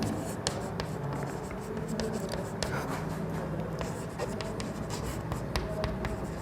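Chalk or marker scratching steadily on a classroom board during a Class 10 science lesson on spherical mirrors, with faint room noise and sparse taps, no voices heard.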